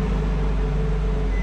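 A Ferrari 458 Spider engine idling, producing a steady, loud low rumble with a constant tone and no change in pitch throughout.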